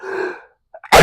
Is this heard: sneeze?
yes